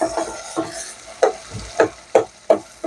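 Onions go into hot oil for a drumstick-leaf and brinjal kulambu, and a steady low sizzle runs under repeated stirring scrapes that come in a loose rhythm about every half second, close and fairly quiet.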